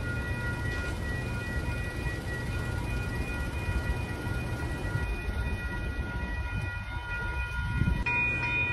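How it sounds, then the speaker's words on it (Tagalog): A train passes on railroad tracks in downtown Wheaton, heard as a steady low rumble with sustained horn-like tones, rising slightly near the end, without talk. "nag-aantay kami sa dadaan na train."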